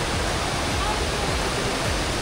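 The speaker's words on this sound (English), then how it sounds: "This is the waterfall." Sada Waterfall makes a loud, steady, broadband rush of falling water close at hand, continuous with no breaks and no clear talking over it.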